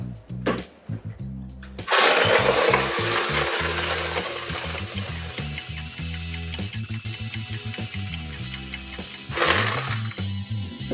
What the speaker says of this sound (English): whisk it for about 10 minutes with the ordinary whisk, or 2 or 3 minutes with an electric whisk till it's pale and creamy